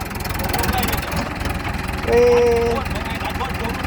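A New Holland TS90 tractor's diesel engine idles and revs steadily up close, a throbbing mid-low drone with a brief rise in pitch and loudness midway, while someone talks over it.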